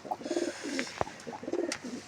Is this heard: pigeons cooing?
yes